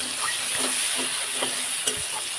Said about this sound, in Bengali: দিয়ে এটাকে নাড়াচাড়া করে নিচ্ছি আমরা সুন্দরভাবে